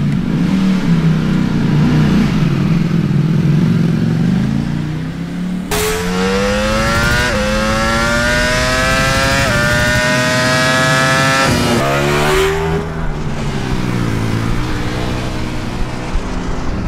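Ducati Panigale V4 superbike engine revving hard, the loud V4 note sweeping up through rising pitches in several long pulls with brief drops between shifts, close and dominant throughout.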